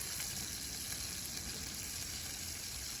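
Food sizzles in a pan on a camp stove, a faint but steady crackling fry that runs unbroken with no voices over it.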